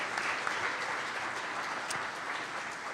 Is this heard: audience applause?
yes